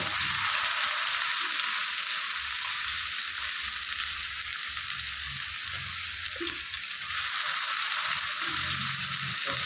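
Bitter gourd fries in hot oil, a steady, close hiss and crackle of sizzling that runs continuously with faint stirring knocks underneath and no talking.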